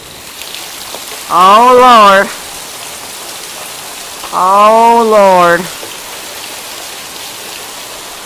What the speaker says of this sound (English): Check out this rain.